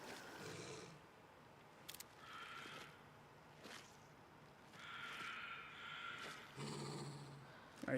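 A dog in the video game Alan Wake 2 gives low growls and snarling bursts that come and go over about eight seconds, set against an ambient game backdrop with no talk.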